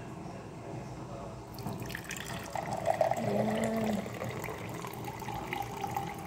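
Water poured from a tap into a glass in a home kitchen, a short filling gurgle rising in the middle of the clip over room noise, with a brief spoken word near the start.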